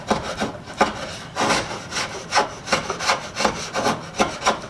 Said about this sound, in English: I think this draw knife needs to be sharpened.